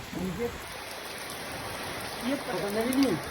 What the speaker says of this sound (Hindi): जैसे ही निकले भाई पानी एकदम से शुरू हो चुका है, देख लीजिए।